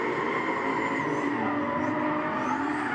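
Drift car at a grassroots drifting competition on a speedway, engine roaring steadily with sustained tire screech throughout, loud and continuous with no talking.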